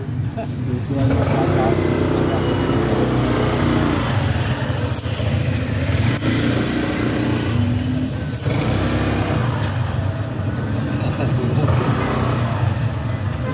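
A motorcycle engine runs steadily and fairly loud the whole time, a continuous low rumble with brief revs, while people talk over it.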